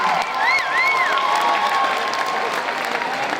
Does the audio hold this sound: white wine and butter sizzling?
no